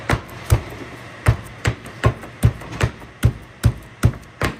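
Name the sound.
crushing garlic with ginger in kitchen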